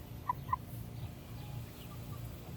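A young cockerel gives two short, faint calls near the start, followed by a few softer chirps over quiet background noise.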